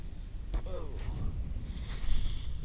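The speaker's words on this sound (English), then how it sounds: "Wind's starting to pick up." Wind gusts across open water around a kayak off Key West, a steady low rumbling rush that swells toward the end, with brief faint voice sounds and light handling noises close by.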